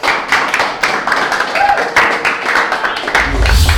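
A group of students applauds at school, dense overlapping handclaps at close range that build steadily, with a low thump and some murmuring voices near the end.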